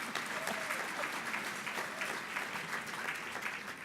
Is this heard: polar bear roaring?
no